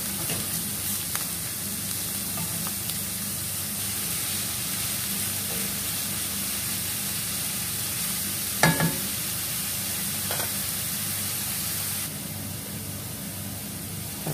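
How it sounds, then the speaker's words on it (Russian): Carrots and onion frying in a pan, a steady, even sizzle that carries on throughout, broken by a couple of brief clinks of stirring near the middle. "И минуточки 3-4 обжариваем морковку вместе с луком."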